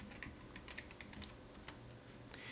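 Quiet clicks of typing on a computer keyboard, a short burst of irregular keystrokes at a steady moderate pace, heard alone at low volume.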